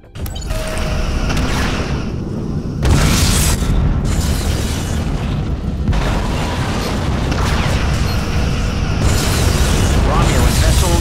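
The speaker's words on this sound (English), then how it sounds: "Romulan vessel destroyed." Romulan starship explosion in the Star Trek: Legacy video game: a loud, sustained rumbling blast with heavy low boom and crackling bursts, swelling in waves over eleven seconds.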